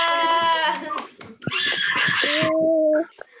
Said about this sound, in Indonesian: Tepuk tangan untuk kelas 2.